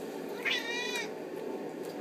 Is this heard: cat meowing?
yes